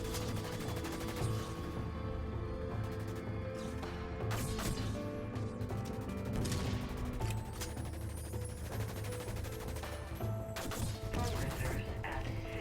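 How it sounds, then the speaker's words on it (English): The Breach Scrambler pistol in the sci-fi shooter Dust 514 fires slow, heavy, widely spaced shots, each a sharp crack over a steady humming background, fairly quiet overall. "The Breach Scrambler pistol is a low rate of fire weapon with massive damage"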